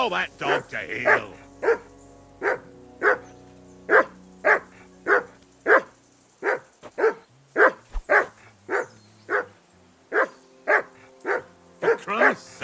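Incessant barking from a dog in Kingdom Come Deliverance 2, around twenty sharp, evenly paced barks over nearly thirteen seconds, close and loud above a low game soundscape.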